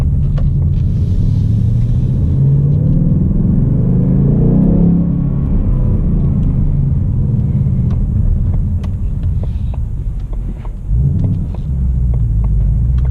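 A 2018 Ford Mustang GT V8 with a six-speed manual gearbox is driven, its engine rumbling loudly and continuously from inside the car, rising and falling with throttle and a gear change.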